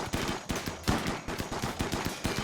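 Automated turrets fire in RimWorld during a fight in a ruined city, a rapid stream of sharp gunshots in quick bursts with a steady mechanical rhythm, loud and continuous with no talking.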